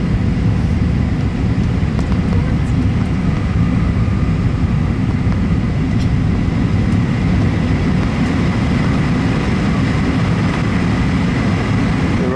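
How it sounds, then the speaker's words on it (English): Inside a Jetstar Asia Airbus A320 coming in to land at Phuket, Thailand, a loud, steady, low cabin roar of engines and airflow fills the whole stretch without a break. "So just watch the plane coming into land."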